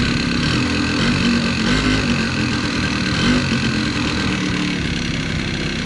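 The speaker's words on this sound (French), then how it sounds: "Moi j'ai mis le ralenti le plus bas que je pouvais." Engine of a vehicle left fifteen years in a barn, idling at its lowest setting, a steady close low rumble with slight unevenness and no talk over it.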